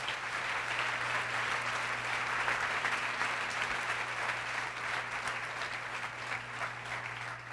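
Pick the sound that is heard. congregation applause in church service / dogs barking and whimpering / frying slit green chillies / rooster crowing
congregation applause in church service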